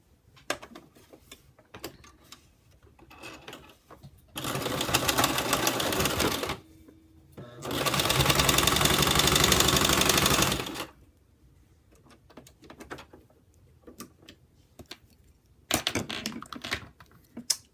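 A sewing machine stitches the side seams of a high neck top in two loud, close runs of rapid, steady needle clatter, separated and surrounded by quiet handling clicks and fabric rustles.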